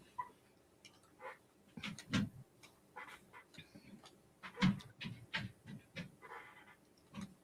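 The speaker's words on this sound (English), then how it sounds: "Now I hear tap-toeing all over the place." A dog moving around a house at night, soft irregular paw taps and clicks on the floor mixed with close panting breaths, faint and scattered.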